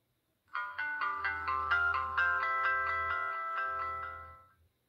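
Startup chime of a Samsung Haven phone: a bright, compressed-sounding melodic jingle of stacked ringing tones, loud and close, lasting about four seconds over a low buzzy undertone before fading out.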